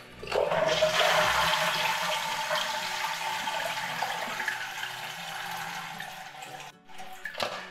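A toilet flushes with a loud rushing gush of water that drains steadily, then tapers into softer trickling as the tank empties.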